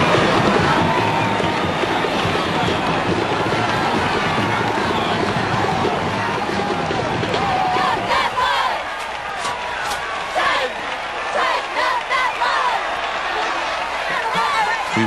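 A near-sellout homecoming football crowd fills Nickerson Field for the unbeaten Boston University Terriers, a dense, loud roar of babble and cheering throughout, with scattered claps and shouts rising in the later seconds.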